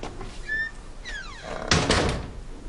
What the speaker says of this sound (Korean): 문소리도 무섭네요.